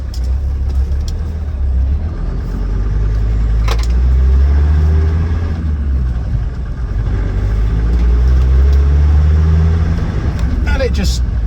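A Land Rover Defender 90 TD5 County station wagon with a freshly rebuilt top end and new turbo pulls away, its diesel engine droning loudly and steadily inside the cab while someone talks over it.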